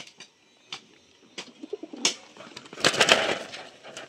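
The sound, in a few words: pigeons cooing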